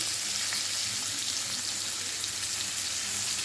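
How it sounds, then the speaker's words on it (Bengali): Young spiny gourd (kakrol) frying in a pan, a steady close hiss and sizzle running unbroken from start to end with no voices over it. "আর সাথে হবে কাঁকরোল ভাজা এরকম কচি কচি কাঁকরোল ভাজা"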